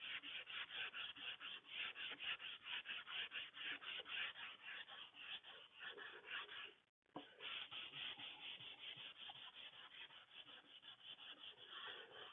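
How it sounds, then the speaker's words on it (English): Rapid rhythmic scratching of sandpaper rubbed back and forth by hand on wood to remove resin chips, close and steady, with one brief pause midway. "Let's give it a quick sanding."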